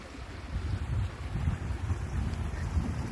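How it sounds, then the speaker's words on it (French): A small waterfall in spring woodland gives a faint, steady rush of water under gusty wind noise, with no voices. "Il y a une chouette petite cascade, je ne sais pas si vous l'entendez."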